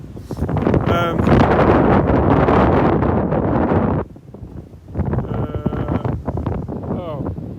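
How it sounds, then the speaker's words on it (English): Heavy wind buffets the microphone in loud rumbling gusts in a park at Grimsdyke Road, Hatch End, Harrow, easing briefly before picking up again, with a voice speaking faintly underneath. "You probably can't hear me because it is so windy."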